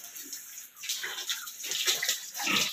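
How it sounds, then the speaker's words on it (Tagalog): Drinking water is poured for a sow pig at midday, a close, splashy hiss of flowing water with small irregular swells and faint grunting-like sounds beneath. "magpapainom ako ng tubig, tanghali"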